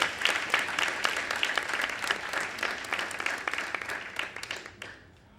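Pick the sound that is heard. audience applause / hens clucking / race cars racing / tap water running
audience applause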